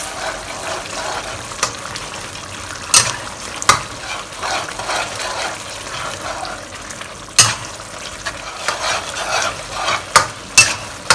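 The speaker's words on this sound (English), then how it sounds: "We'll now thicken the sauce with cornstarch solution. Just add a little at a time and stir them in." A ladle stirring cornstarch slurry into a simmering sauce in a pan, with a soft bubbling sizzle and repeated scraping strokes and occasional sharp clinks against the pan.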